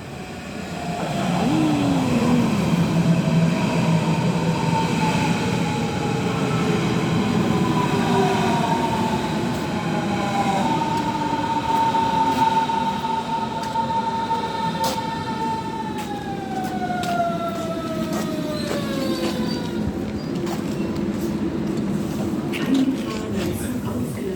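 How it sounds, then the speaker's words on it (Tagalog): A train bound for Potsdam pulls into a station with a loud, continuous rumble and a high, falling electric whine as it slows to a stop, the sound filling the whole stretch. "parating ng train papuntang Potsdam"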